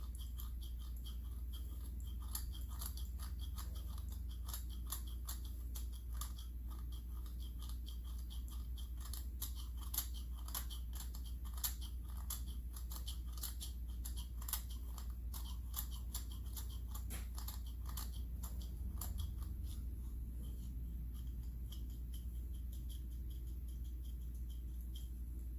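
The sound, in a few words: scraping deposits off a Stihl 026 chainsaw cylinder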